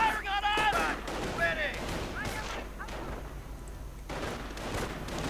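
Gunfire and explosions from a World War II strategy game battle, with scattered thuds and bursts of shots under someone commentating nearly throughout.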